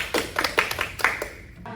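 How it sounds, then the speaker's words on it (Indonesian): A few scattered, separate claps from a small classroom audience at a peer teaching session, brief and fairly close, fading out within two seconds. "beri tepuk tangan untuk kita semua"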